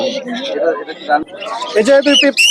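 Caged birds at a busy Wednesday bird market in Meradia, Bangladesh, giving bright chirps and calls close by, mixed in with someone talking loudly over them.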